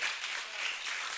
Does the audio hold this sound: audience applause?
yes